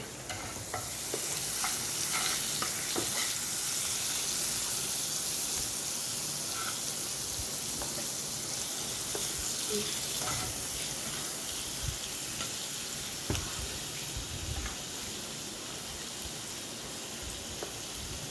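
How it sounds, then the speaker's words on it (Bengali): A soft, even hiss of garlic paste frying in a pan, broken by occasional scrapes and taps of stirring, with no one speaking. "রসুনটা আমার একটু ভাজা হয়ে এসছে"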